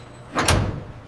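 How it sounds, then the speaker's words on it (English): A heavy steam retort door in a food factory making apple slices, applesauce and juice clunks shut and locks, one short metallic thud over steady machinery hum. "Doors lock."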